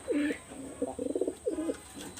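A young teddy baby pigeon coos in a few short throaty phrases, close and fairly clear, with a faint high whine in the background and no talk.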